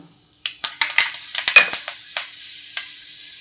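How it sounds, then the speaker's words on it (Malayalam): Fenugreek seeds dropped into hot coconut oil give a series of sharp, close sizzling pops and crackles, spaced irregularly and fading toward the end. "വെളിച്ചെണ്ണ ഒഴിച്ചു കൊടുത്തിട്ടുണ്ട് ഇതിൽ നമുക്ക് ഉലുവി ഇട്ട് കൊടുക്കാം"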